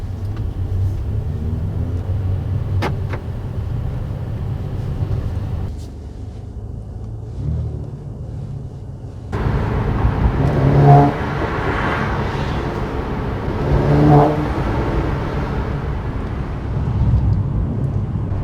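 A 2018 Mercedes-AMG C43 4MATIC under way, its engine note droning steadily with low rumble, dipping briefly, then swelling into louder pulls with rising revs, heard from inside without talk.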